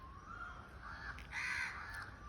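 Birds calling near a kafal tree in the hills, a few harsh caw-like cries rising and falling at moderate distance against a faint steady background.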